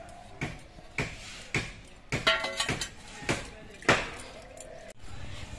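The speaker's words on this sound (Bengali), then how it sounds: "এবার আমি ছাঁকনিটার মধ্যে চিড়েগুলো নিচ্ছি, তাহলে এক্সট্রা জলগুলো সবই বেরিয়ে যাবে।" Soaked flattened rice (chira) tipped into a metal strainer in a home kitchen, giving a series of short clattering, clinking knocks against the strainer and nearby utensils, irregular and close, with brief pauses between impacts.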